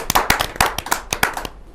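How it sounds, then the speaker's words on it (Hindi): An audience at a Hindi kavi sammelan poetry gathering gives a poet a short burst of hand clapping, a dozen or so close, sharp claps over about a second and a half, then stopping into quiet. "एक जोरदार ताली।"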